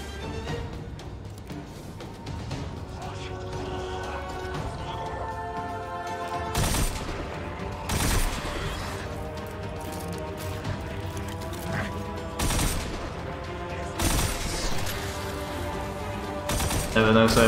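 Rapid weapon fire in the shooter game Destiny 2, repeated sharp bursts and crashing impacts spaced a second or two apart over a steady musical and mechanical game backdrop.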